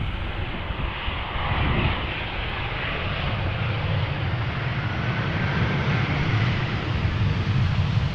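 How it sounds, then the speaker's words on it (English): Iberia Express Airbus A320 arriving from Madrid touches down on a runway at Amsterdam Schiphol in crosswind conditions: a steady, loud roar of jet engines and rushing air with wind buffeting, swelling slightly as the airliner rolls out. "A320 Iberia Express, arriving from Madrid, now touching down."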